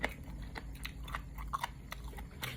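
Close, crisp crunching and chewing of crispy squid in a spicy Thai seafood salad with cockles, with rapid irregular bites and crackles over a steady low background hum and no talking.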